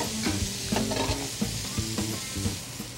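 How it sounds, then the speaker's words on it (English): Meat for a Louisiana-style chicken and sausage gumbo searing in a hot pan, a loud, dense sizzle with short stirring scrapes and knocks of a utensil, close up with no talking. "Just going to sear it off on one side like so."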